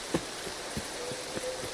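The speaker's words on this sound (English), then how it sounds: "And of course, it's raining" Steady rain falling in the video game Escape from Tarkov, a soft, continuous hiss with a few faint scattered taps, fairly quiet throughout.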